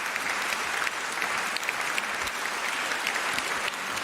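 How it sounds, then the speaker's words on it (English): A debate audience gives a steady, dense round of applause that fills the whole stretch at an even level, with no voices breaking through. "How about a round of applause, ladies and gentlemen?"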